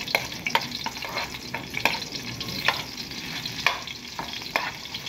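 Chopped garlic stirred in hot oil for afritada, a steady close sizzle with repeated spoon scrapes and taps against the pan at an irregular pace, no voices.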